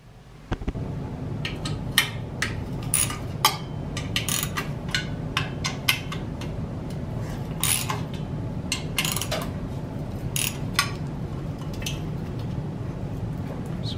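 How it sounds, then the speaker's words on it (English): Bolts being removed from the exhaust muffler of a Yamaha Tenere 700 motorcycle: a steady run of sharp ratchet and metal clicks over a low, constant background hum, with no talking. "the next thing we're gonna have to do is just remove these four bolts and then this will pull out"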